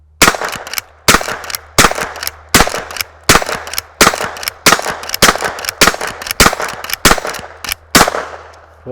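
A Henry .22 rifle fires Winchester .22lr shotshells, a dozen loud, sharp cracks spaced at a steady, unhurried pace with short gaps between shots, each ending in a brief ringing tail.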